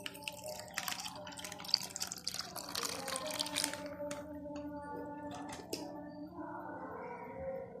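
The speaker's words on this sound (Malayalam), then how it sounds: "ഇനി നമുക്കിതിലേക്ക് തണുത്ത പാലൊഴിച്ചു കൊടുക്കാം." Cold milk poured from above onto chopped watermelon pieces, a close bubbling, gurgling stream that runs for several seconds and then thins to a quieter trickle.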